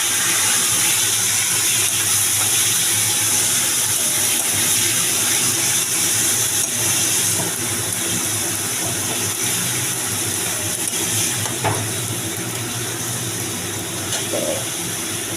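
Grated onion hits hot oil for a Bengali bhetki fish kosha and sizzles in a loud, steady, close hiss that holds unbroken throughout, with faint clinks now and then.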